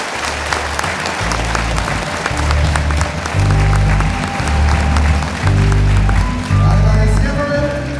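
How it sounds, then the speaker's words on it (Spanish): Audience applause at a municipal New Year gathering in the first hours of 2014, a steady wash of clapping with music and a low rhythmic beat thudding underneath throughout. "¿Por qué no le damos un fuerte aplauso a Él en esta hora?"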